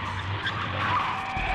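Car tires skid and squeal as a car spins out in a circle in the Steins;Gate 0 video game, a steady, loud screech lasting throughout with no talking.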